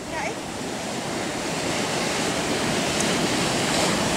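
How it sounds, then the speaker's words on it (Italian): Ocean waves on the Big Sur coast roar as a continuous, loud wash of surf, blended with gusting wind against the microphone. "Wow, che onde!"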